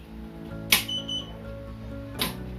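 An RFID door lock with a solenoid, driven by a NodeMCU, gives two short, sharp electronic beeps spaced well apart. They sound close and clear over a quiet hum.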